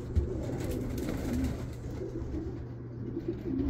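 Pigeons coo in low, repeated murmurs ahead of their afternoon feeding, with a steady hum underneath and a single bump near the start.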